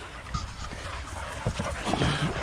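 Gundogs pant and whimper in a close, busy cluster around their seated trainer outdoors, with rapid breathy huffs and small whines over rustling background noise.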